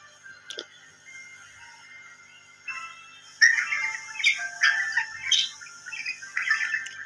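Budgies chirp and squawk in the Bird Land Paradise video game, a few sparse tweets early on, then a busier run of bright, overlapping chirps in the second half, close and clear with no talking.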